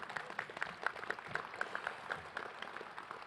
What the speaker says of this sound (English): Go ahead, clap for yourself.